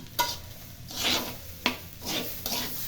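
Biryani ingredients frying in a pan, with soft sizzling and a few spatula stirs and scrapes against the metal recurring every half second or so, close and moderately quiet.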